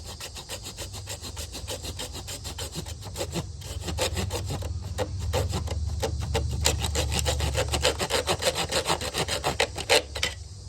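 Steady back-and-forth sawing with a hand saw cutting through a car heater hose, rhythmic rasping strokes close up, growing a bit louder and quicker toward the end.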